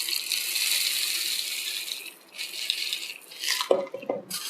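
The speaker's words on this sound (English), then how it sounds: "I'm going to pour more leca in." LECA clay pebbles pour into a plant pot for a semi-hydroponic cutting, a steady dry rattling trickle of small hard balls close by that thins out midway, then ends in a few louder clattering knocks.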